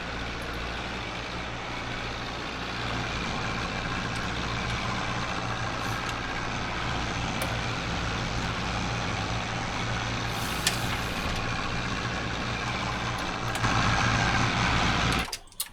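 A 1960 Zetor 4011 vintage tractor without a cab drones steadily in Farming Simulator, its loud, continuous engine hum and chugging holding an even pace throughout, with a slight rise in level near the end.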